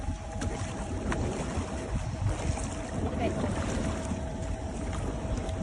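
A boat engine drones steadily over wind and water as the boat tows a wakeboarder, with people talking and calling out over the motor noise.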